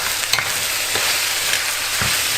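Chicken cooking in coconut milk in a pan, giving a steady broad sizzle with a few soft stirring scrapes and occasional clinks, close and continuous, no talking.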